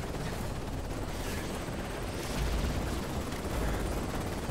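Enemy gunfire in Call of Duty: Modern Warfare 3 from 2011, a dense steady crackle of shots and rumble filling the scene without pause, fairly loud and without talk.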